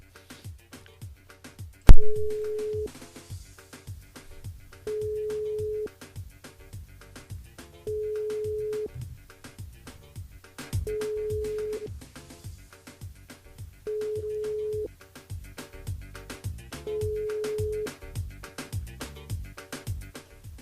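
Telephone ringback tone on a radio station line while a caller is dialed back live, with six evenly spaced steady beeps about three seconds apart over quiet background music.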